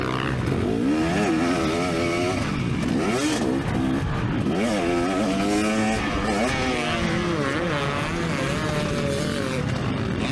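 A 2024 KTM 300sx two-stroke dirt bike on a motocross track, its engine screaming and revving up and down continuously, rising and falling pitch as it accelerates and shifts, loud and steady throughout without talk.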